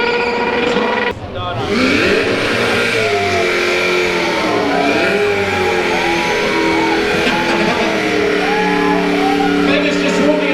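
A race car's engine drones and revs with wavering pitch while the driver warms up the tyres, steady and loud throughout, with a commentator talking over it.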